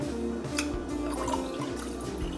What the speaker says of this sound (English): Throw this cold brew in there.